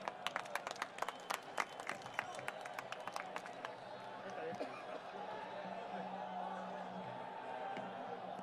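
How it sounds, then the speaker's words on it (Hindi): Crowd at an Aam Aadmi Party rally in Surat, Gujarat, welcoming Arvind Kejriwal, with sharp scattered claps over the first few seconds that fade into a steady crowd murmur, heard at a distance and fairly faint. "जोरदार तालियों के साथ स्वागत करें।"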